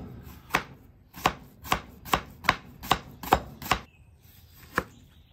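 A knife slices half an onion extremely thin on a cutting board, with eight sharp, close chops in a steady rhythm, then a short pause and one final chop.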